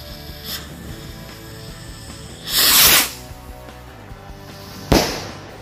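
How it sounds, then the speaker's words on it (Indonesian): A jumbo rocket firecracker goes off: a faint pop, then a loud rushing whoosh lasting about half a second, followed by a sharp, close bang. "selanjutnya kita nyalakan mercon roket jumbo"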